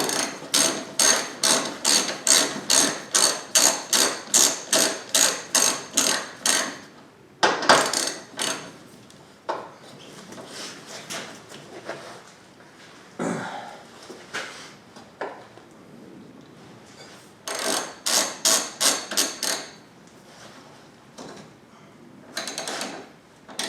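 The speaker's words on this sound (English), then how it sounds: "Let me get a ratchet and extension for that. I'm just going to snug them up" Ratchet snugging engine mount bolts on a 2010 Mazda 3 2.0L, close-up rapid clicking in quick repeated bursts separated by short pauses and scattered metallic clanks.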